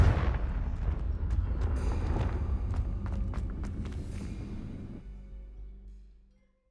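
Booming fire-spell blasts from the Hogwarts Legacy video game, a dense rumbling barrage with sharp crackling bursts that fades into a low decaying tail.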